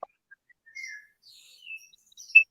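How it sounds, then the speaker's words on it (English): Birds chirp and tweet in quiet woodland beside a village cemetery, a few short scattered calls, some nearer and some farther off, with no one talking. "You sure that's not my bird you can hear, Joe?"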